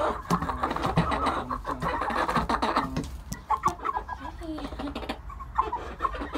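Chickens cluck and murmur in a newly finished coop, close and busy, while a person talks over them, with shuffling and movement in between.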